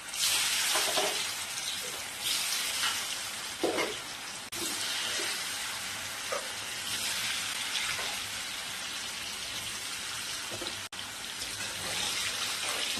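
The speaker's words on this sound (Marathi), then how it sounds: "तेल तापलेलं आहे आता याच्यात आपल्याला आपले फुलके तळून घ्यायचे" Phunke fritters fry in hot oil on low heat, giving a steady loud sizzle and bubbling hiss that runs throughout with a few soft clatters and no speech.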